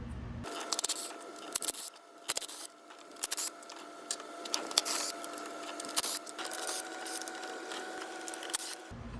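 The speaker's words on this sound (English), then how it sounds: "Using a 10mm socket, we're going to remove the bolts holding the valve cover." Socket wrench with a 10mm socket loosening valve cover bolts on a 2008–2013 Nissan Rogue, giving a fast run of close, light ratcheting clicks with brief pauses and scattered sharper metallic taps throughout.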